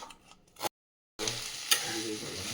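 Chopped spinach sizzles and crackles in hot oil for palong dal as it is stirred, quiet and close, with a brief silent gap before the frying resumes more loudly.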